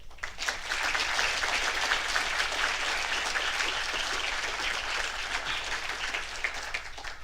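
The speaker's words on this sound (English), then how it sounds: "I think that deserves a round of applause." A graduation ceremony audience gives a full, sustained round of applause, many hands clapping evenly in a large hall for about seven seconds with no talk over it.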